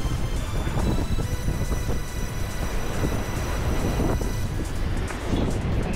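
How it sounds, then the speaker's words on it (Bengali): Strong wind buffeting the microphone atop a forest watch tower, a continuous loud roaring rumble with gusty surges throughout six seconds, no voices. "অসাধারণ হাওয়া।"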